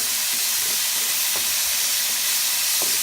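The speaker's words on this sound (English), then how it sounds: "put a little of garlic. There you go. And then give it a stir." Garlic fries in a pan with a loud, continuous hiss and steam close up, while a few faint stirring knocks sound beneath it.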